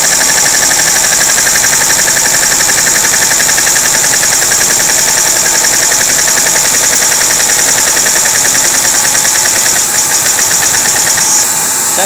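A model butterfly vacuum engine with a gear ratio runs steadily and close, a loud continuous mechanical whir and rapid knocking that holds even for about twelve seconds before it slightly changes near the end.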